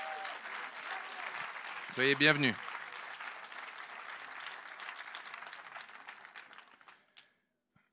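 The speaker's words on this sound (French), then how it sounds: "On peut les applaudir chaleureusement." Audience applauding warmly to welcome guests, a soft continuous patter of clapping throughout, with a short spoken phrase cutting through midway before the applause fades out.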